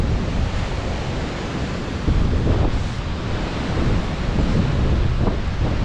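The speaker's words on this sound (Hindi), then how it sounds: "हवा बहुत ज़्यादा तेज़ चल रही है, जिसकी वजह से झील का पानी समंदरी लहरों की तरह बिहेव कर रहा है" Strong wind buffets the microphone while waves churn on a lake in Kashmir, a loud, continuous rushing roar with gusty swells and no voices.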